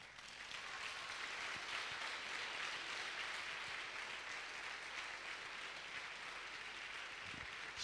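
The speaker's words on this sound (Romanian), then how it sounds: "Și pentru asta aș vrea să-l mai aplaudăm o dată." At a Christmas carol concert in a church sanctuary, the audience gives a sustained round of applause, a broad, even clatter of many hands heard from some distance and fairly quiet overall.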